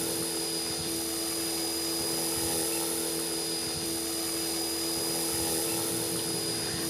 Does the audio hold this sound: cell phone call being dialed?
no